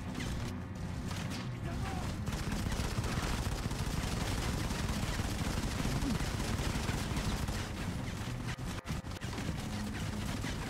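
Minigun and other weapons fire continuously in a Modern Combat 5 battle, a dense, loud, unbroken roar of rapid gunfire with crashes, while a player talks over it.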